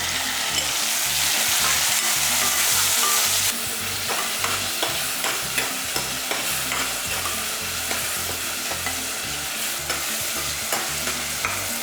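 Tomatoes and onions sauté in a pan for a black chickpea masala gravy: a loud, continuous sizzle that eases slightly partway through, with a dense run of rhythmic spatula stirring and scraping, and no voices.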